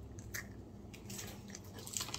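Close, quiet chewing of a crunchy peanut butter candy bar coated in chocolate, soft crunches and mouth sounds repeating through a short bite.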